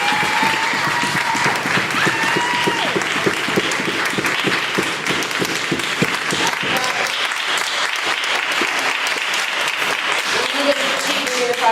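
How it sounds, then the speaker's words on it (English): Audience applause at a community meeting about an International Village purchase agreement, a dense, steady wash of clapping from a crowded room that holds for several seconds before thinning out. "please hold your applause"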